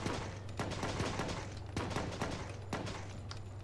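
Rapid gunfire bursts from the mobile video game Bad 2 Bad Extinction, with repeated sharp shots over a steady low rumble, loud and continuous through the whole stretch.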